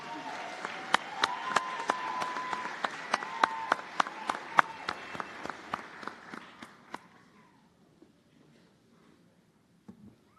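An audience applauds a group at a nursing white coat ceremony, dense clapping with loud distinct claps close by, tapering off after about seven seconds into near quiet with a few stray sounds.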